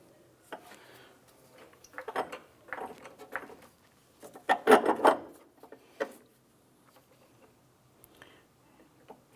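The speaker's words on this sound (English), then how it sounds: "Let's go ahead and jack this up." A car jack is worked to lift the engine of a 2001-2005 Honda Civic during a lower engine mount replacement, giving a series of close rasping, ratcheting strokes in uneven bursts with a louder cluster midway, then quieter scattered clicks.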